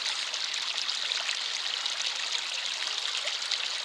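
Continuous, even rush of flowing river water at a harvester's river crossing, close and moderately loud, with no breaks or voices.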